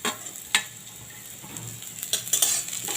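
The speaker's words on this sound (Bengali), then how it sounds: "আমার আদা রসুনটা একটু ভাজা ভাজা হয়ে গেল। এবারে দিয়ে দিচ্ছি পেঁয়াজ কুচনো" Chopped onion goes into hot oil with ginger and garlic, giving a soft, steady sizzle broken by sharp clinks and scrapes of a spoon against the pan, which grow busier toward the end.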